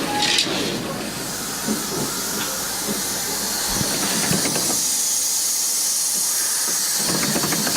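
Steam engine aboard a ship hisses steadily with steam at full, a continuous broadband rush with faint mechanical clatter and knocks running throughout at close range.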